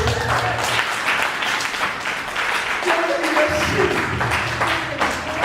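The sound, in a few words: congregation clapping as an offering to the Lord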